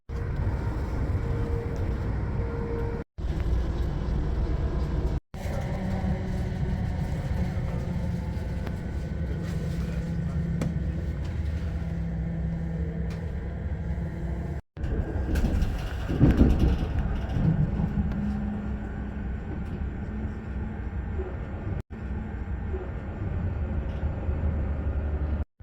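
A Great Northern Class 379 electric train runs into a station, with a steady low rumble and hum from inside the carriage, a few brief dropouts in the sound, and a rattling clatter midway as it slows on arrival.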